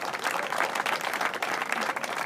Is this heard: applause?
yes